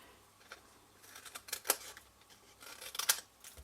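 Scissors trim paper on a handmade card box with quiet, scattered snips that cluster into a few sharper cuts in the second half, close and soft.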